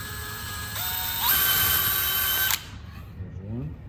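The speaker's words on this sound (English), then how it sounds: "But we're going to drill some holes." A power drill bores holes into a wooden planter, whining steadily and rising in pitch partway through before cutting off abruptly, with a brief voice afterward.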